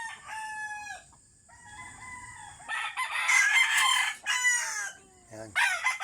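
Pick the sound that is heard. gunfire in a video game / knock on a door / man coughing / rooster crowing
rooster crowing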